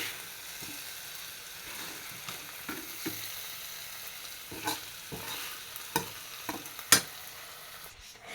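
Fish masala being stirred in a frying pan, a steady soft sizzle under scattered scraping clicks of the spoon against the pan, with a sharper knock near the end.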